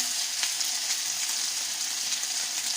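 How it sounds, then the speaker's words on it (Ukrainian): Potatoes frying in a pan, giving a steady, close hiss and sizzle that runs unbroken throughout, with a few faint crackles and no voices. "Зараз ще трошки підсмажується, багато вона не буде підсмажуватися."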